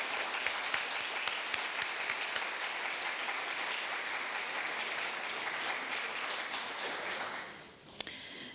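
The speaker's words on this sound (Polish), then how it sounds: "teraz jest czas na oklaski" An audience at the opening of an art exhibition on Central European avant-garde art applauds in a steady, dense patter of many hands that fades near the end, followed by one sharp knock.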